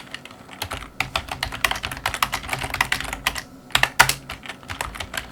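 Rapid, uneven keystrokes on a computer keyboard while text is entered into a PowerPoint text box, with close, crisp clicks running throughout and no voices.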